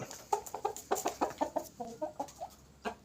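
A thirteen-month-old chicken, recently recovered from fowl coryza, clucks repeatedly in short, uneven bursts, fairly close and clear with no talking.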